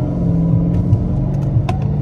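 A Dodge Charger R/T AWD drives along with a deep, steady engine drone and road rumble, heard close from the cabin, continuous and without voices.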